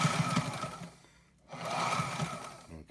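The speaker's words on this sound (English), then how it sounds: "we're going to do a zigzag stitch now" Sailrite LSZ-1 sewing machine sewing a zigzag stitch, a quiet, fast mechanical whirring in two runs separated by a short pause, heard close and alone.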